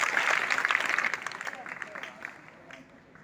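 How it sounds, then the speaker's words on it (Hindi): An audience at a school prize-giving ceremony claps as awards are presented, a dense burst of applause that starts strong and gradually fades away over a few seconds. "जोरदार ताली बजाइए।"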